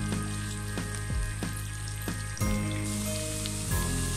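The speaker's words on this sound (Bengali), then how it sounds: "আমি পেঁয়াজটাকে ভেজে নিচ্ছি" Diced onions fry in a pan for a prawn curry, giving a steady close sizzle that runs throughout, with a few soft utensil knocks and a brief surge of crackle partway through.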